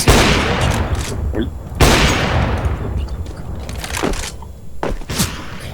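Airsoft pellets are fired in quick bursts: sharp cracks and rattling volleys crowd together unevenly, some close and loud, others softer, while people talk nearby.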